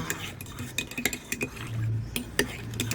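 A spoon stirs sweetened condensed milk into instant coffee in a cup, making a rapid series of close, bright clinks and scrapes against the side.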